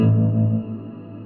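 A single sustained synth note rings out and decays fairly quickly, sounding dry with only a short tail, no other sounds around it.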